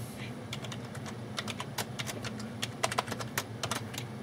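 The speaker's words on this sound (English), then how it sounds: "type in my password" A password is typed on a computer keyboard as a quick run of light, close key clicks in uneven bursts over a low steady hum.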